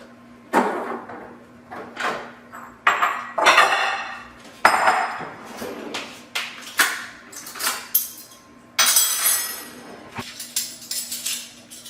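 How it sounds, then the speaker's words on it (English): Mixing bowls, medium, large and small, being pulled out and set down in a home kitchen while baking banana chocolate chip muffins; repeated close clinks and clatters of dishes come in irregular bursts, with no talk. "I'm going to get my bowls."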